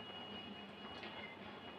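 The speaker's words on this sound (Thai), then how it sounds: "ไม่ได้ขี่รถไฟมานานแค่ไหนแล้ววะ" Train ride in the SAKURA School Simulator video game: a steady rolling rumble with a faint high whine, continuous and fairly quiet throughout, no talking.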